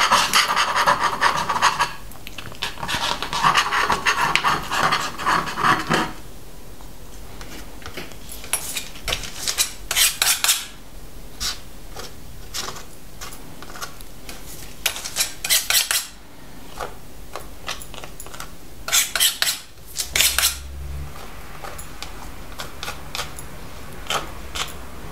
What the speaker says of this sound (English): Or just scribble with your palette knife.